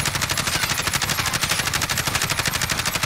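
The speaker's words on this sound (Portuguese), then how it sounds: "agora eu vou atirar e segurar o recuo" Automatic rifle fire in Warzone, a fast, evenly spaced stream of loud shots held for the full burst with no talking.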